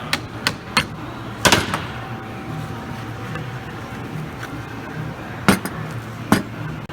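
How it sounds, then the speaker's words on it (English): Sharp metallic hammer strikes ring out in irregular bursts, knocking a part off a CV drive shaft, a few quick taps then heavier blows, close by over a low background hum. "You might have to use a hammer to knock this off."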